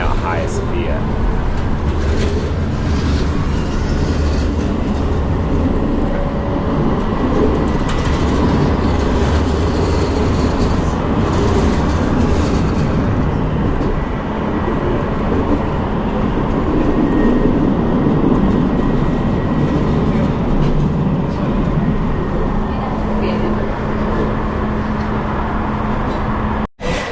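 Steady rumble and rattle of a train in motion in Istanbul, with a continuous low drone and faint clatter throughout, occasional voices murmuring in the background.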